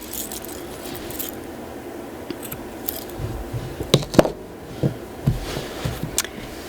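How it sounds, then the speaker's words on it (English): Scissors snip the loose yarn ends of a finished crochet coaster, giving a few quiet close clicks and cuts near the end. "And let's snip these ends."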